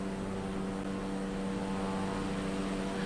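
Aircraft engine running at full throttle at high altitude near Lukla, a steady loud drone with strong low tonal bands, continuous and unbroken, with no talk over it.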